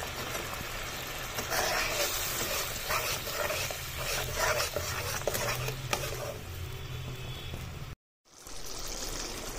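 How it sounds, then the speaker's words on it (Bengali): Ground spice and coriander leaf paste for a Bengali bhetki fish dish is fried and stirred in a pan, giving a wet sizzling hiss with scraping strokes. It cuts out abruptly for a moment near the end, then resumes. "এবারে খুব ভালোভাবে মশলাটা কষাতে হবে।"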